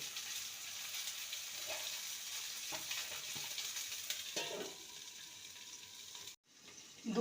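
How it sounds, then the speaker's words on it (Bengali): Vegetables for a Bengali pumpkin stem dish cook in a pan, giving a steady, soft sizzle with faint stirring scrapes, then a brief drop in sound near the end as the pan is handled. "ঢাকা দিয়ে সবজিটাকে একটু মজতে দেবো"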